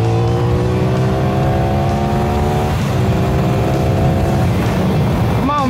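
A BMW car engine drones steadily close behind a motorcycle, its pitch gliding and shifting as it revs, heard over continuous road and motor noise.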